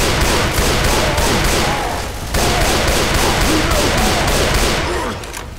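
Gunfire in the Left 4 Dead 2 video game: loud rapid continuous bursts of shots blend into a dense roar, with a short pause partway through before the firing resumes.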